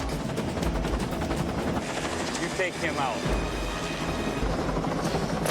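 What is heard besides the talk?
helicopter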